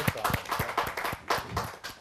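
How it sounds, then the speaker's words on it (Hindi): Audience at a Hindi poetry recital claps to welcome a poet, a few seconds of uneven, fairly close hand claps with distinct individual strikes. "जोरदार तालियों के साथ हम स्वागत करें अरुण कुमार"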